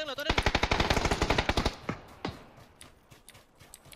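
Rapid automatic gunfire from the video game PUBG, a fast burst of loud, evenly spaced shots followed by a few scattered single shots and quieter clicks as the firing stops.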